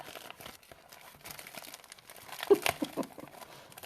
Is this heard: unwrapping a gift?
yes